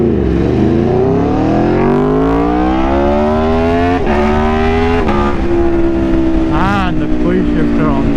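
An Aprilia motorcycle, a pre-RSV4 model fitted with many aftermarket parts, roars up close as it is ridden, its engine note climbing steadily through the gears with brief dips at quick upshifts and a steady rumble underneath.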